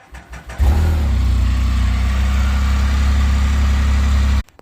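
A Can-Am vehicle's engine cranks briefly, fires up loudly and settles into a steady, deep idle close to the microphone before cutting off abruptly at the end.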